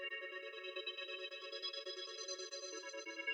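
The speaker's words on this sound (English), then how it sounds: "It's a little ARP, again from the M1. Harmonic gate patch." A Korg M1 arpeggio on the harmonic gate patch for a 90s dream trance track, playing a steady run of bright, rapidly gated synth notes that holds at an even level throughout with no voices.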